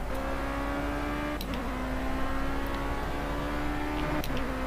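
A steady, droning engine of an open-cockpit single-seater race car in Project CARS, with a sustained whine that shifts pitch twice as gears change, heard close and continuous without talk.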